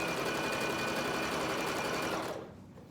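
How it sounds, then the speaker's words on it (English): A sewing machine runs a steady, fast zigzag stitch, attaching elastic onto puffer jacket fabric as it is pulled so the material bunches; the close, continuous whir stops abruptly near the end. "So I'm going to be sewing and pulling, sewing and pulling, sewing and pulling, sewing and pulling, so on and so forth"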